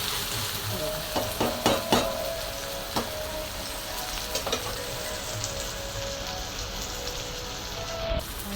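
Onion and tomato frying in a pan hiss steadily while a utensil stirs them, with a few sharp scraping clicks early on and no voices.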